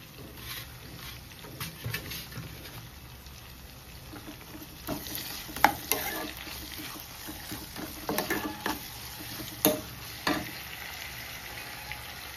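Curry frying and being stirred in a pan after coriander stems are added, a steady sizzle with intermittent scraping clatters of the spoon, close and moderately loud, no talking.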